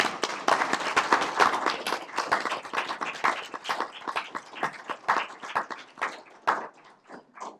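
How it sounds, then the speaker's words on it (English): Audience at a county board of supervisors meeting breaks into clapping, a dense, moderately close run of individual hand claps that thins out toward the end, with no talk over it. "Now we get to clap."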